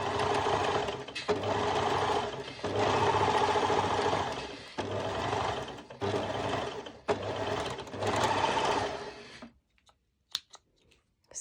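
Sewing machine running steadily while stitching a simple rolled hem on a twisted knot skort, loud and close in several long bursts with brief pauses, then stopping into near silence with a few faint clicks.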